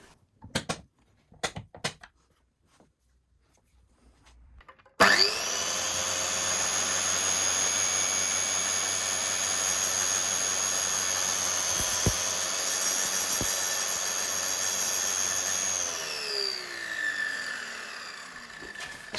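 A track saw makes a short test cut trimming an aluminium guide rail: a few clicks, then the motor spins up into a loud steady whine with grinding under it for about ten seconds before winding down.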